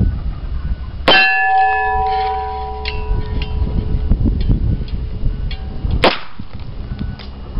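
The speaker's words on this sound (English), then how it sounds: "I'm just going to take 6 shots from about 30 feet" Two sharp gunshots from a .38 Special revolver firing ball ammunition at a brick from about 30 feet ring out several seconds apart outdoors, each a loud crack with a ringing metallic tail.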